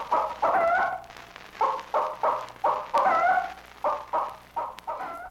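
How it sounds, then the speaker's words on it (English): Frightened hen clucking in a chicken yard, a close series of loud, urgent squawks and clucks in quick uneven bursts with brief gaps between them. "a frightened hen sounds like this."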